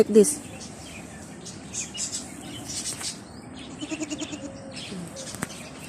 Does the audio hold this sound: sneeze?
no